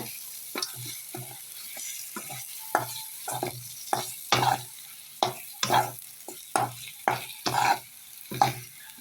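Meal maker soya chunks stirred in a frying pan for an egg fry, a spoon scraping in repeated strokes over a low, steady sizzle, close and fairly loud.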